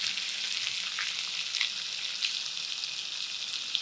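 Large sliced onions frying in hot oil with popped mustard seeds for kadamba sambar, an even, hissing sizzle heard up close throughout with faint crackles and no speech.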